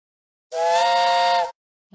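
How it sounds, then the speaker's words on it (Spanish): A single sustained steam-train whistle in a Curious George video game blows loudly for about a second, a bright harmonic tone that cuts off abruptly, followed by the start of another sound. "presiona el silbato del tren"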